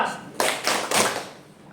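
A PJOK physical education class performs a rhythmic clap chant, three sharp bursts of group clapping in quick succession, close and fairly loud.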